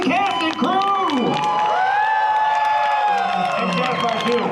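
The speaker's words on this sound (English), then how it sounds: "a big, humongous, gigantic round of applause, screams and cheers for your Terrifier 3 Extreme cast and crew" A convention panel audience for the Terrifier 3 cast and crew bursts into loud, continuous applause with screams, whoops and cheers that fill the room close by.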